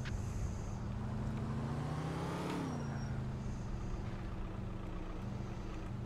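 A car engine drones steadily in LCPDFR, the police mod for the video game GTA IV, with its pitch rising and then dropping as the vehicle speeds up and eases off, loud and close with no talking.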